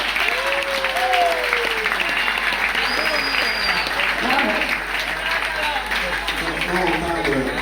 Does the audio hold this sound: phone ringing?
no